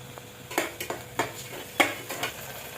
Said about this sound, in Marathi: आलं लसूण पेस्ट छान परतली.